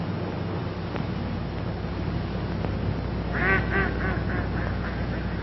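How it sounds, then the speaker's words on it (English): Ducks quack in a repeated series of calls partway through, heard over steady outdoor wind and background noise on a golf course. "Look at those ducks."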